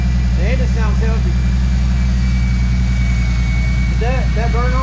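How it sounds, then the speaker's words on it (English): A 1997 Ford Mustang engine idles steadily while warming up, a loud low rumble running without a break as people talk over it. "It sounds good. The engine sounds healthy."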